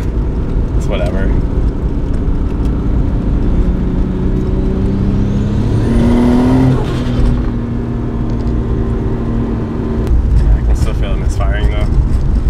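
An RB26-swapped Nissan R32 sedan engine runs steadily, its low harmonic drone rising and falling through a rev with a rough, uneven edge hinting at a misfire, loud and close throughout.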